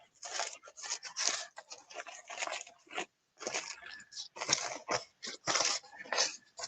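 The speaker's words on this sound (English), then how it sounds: "Really, really crumple it." Tissue paper crumpled hard by hand up close, a string of crisp crackling rustles in quick uneven bursts with short pauses and no talking.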